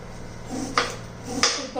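A knife cuts through a small onion on a board, two distinct clicking chops about half a second apart over a quiet background hum.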